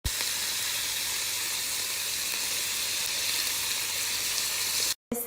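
A sauce of roquefort, crème fraîche and butter heating in a pan on high heat, giving a steady loud sizzling hiss that runs without pause before briefly cutting out near the end.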